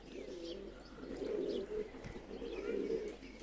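Young fantail pigeons coo in low, soft repeated phrases, with faint chirps and flutters in between, fairly close and with no voices.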